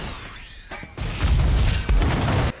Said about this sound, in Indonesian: Kemudian si kakek tua pun pergi dengan meledakkan tempat tersebut.